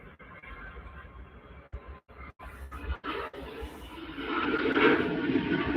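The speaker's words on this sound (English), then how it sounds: "Beautiful takeoff from Singapore." A jet airliner from Singapore takes off at Manchester Airport, its broadband engine roar building steadily and growing louder toward the end, with faint scraping noises early on.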